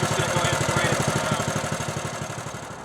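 A small Honda four-stroke engine of 4 to 6.5 hp idling close up with a rapid steady chug, its loudness slowly fading as it runs down.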